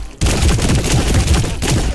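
Dense, rapid gunfire in the video game High on Life, a loud continuous barrage of shots packed tightly together from start to finish after a brief quiet opening.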